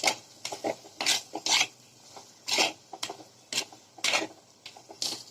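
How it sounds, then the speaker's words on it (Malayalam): Crab masala is sautéed in a pan with coriander powder, turmeric and pepper powder, a spoon scraping and stirring in close, rhythmic bursts over a faint sizzle, with no speech. "ഇട്ട് പച്ചമണം മാറുന്നത് വരെ വഴറ്റാം."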